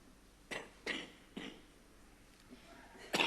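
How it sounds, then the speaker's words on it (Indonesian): A preacher coughs during a church sermon: a few short, faint coughs spaced irregularly, with a final one at the end. "Saya batuk gitu."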